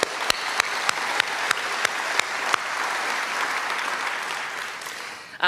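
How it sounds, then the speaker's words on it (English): A memorial celebration crowd breaks into applause, a few distinct claps at the start that swell into a dense, steady wash of clapping before fading near the end, moderately loud with no speech on top. "We'd also like to, yes, round of applause."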